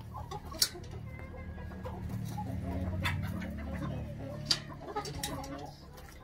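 Chickens clucking softly at a farm during poultry handling, with a few sharper calls standing out over steady low background noise; no clear talk.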